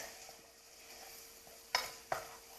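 Vegetable chunks and wedges sauté in a pan over raised heat with a soft, steady sizzle, then two sharp utensil clacks against the pan near the end.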